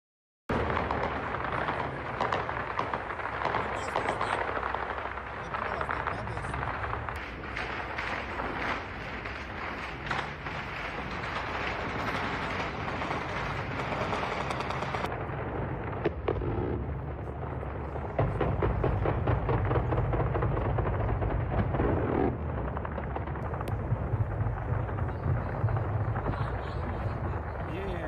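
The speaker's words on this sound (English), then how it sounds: "All that noise you can hear are small arms fire initially." A constant, heavy roar of distant, rumbling noise, with rapid bursts of small arms gunfire aimed at Iranian drones in the Ukraine war blending in throughout.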